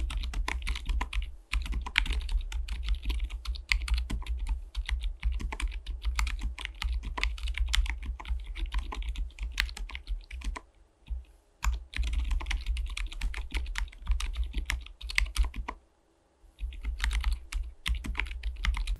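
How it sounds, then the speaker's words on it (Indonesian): A mechanical keyboard fitted with Alias 80g silent tactile switches lubed with Krytox 204, typed on in a fast, dense stream of muffled soft clicks for nearly twenty seconds, pausing briefly twice, close and clear with a low hum beneath. "switch Alias ini adalah switch tactile silent, dan ya kurang lebih tapping testnya seperti ini"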